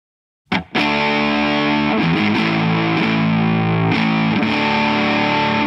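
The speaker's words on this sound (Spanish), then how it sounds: "Vamos a poner el canal con distorsión." An electric guitar on a distortion channel through a Bugera amp with a PS1 power soak rings out in thick, sustained chords after a sharp pick attack, loud and saturated with a few chord changes.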